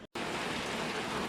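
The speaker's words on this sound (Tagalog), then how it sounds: "Pagkusog sa ulan." Heavy rain pours down in a dense, continuous hiss of drops on surfaces after a brief moment of silence at the start.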